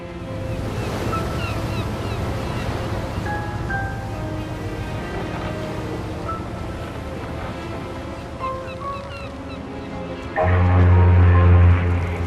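Sea waves and wind in the video game Mafia II, a continuous ocean wash with some tonal music-like lines over it, ending in a louder low rumble that swells in the last two seconds.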